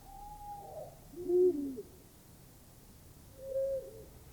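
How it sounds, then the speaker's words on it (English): Hooting owl calls in a layered forest sound effect, two soft low hoots separated by quiet gaps over faint ambient background with some birds. "So it's basically some birds in the forest."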